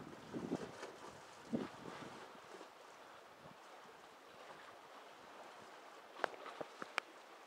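Breezy wind outdoors on a sunny day at Hallstatt, a soft continuous rush with stronger gusts near the start that buffet the microphone, then a few faint sharp taps toward the end.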